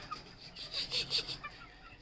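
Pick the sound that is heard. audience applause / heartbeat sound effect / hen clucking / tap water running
hen clucking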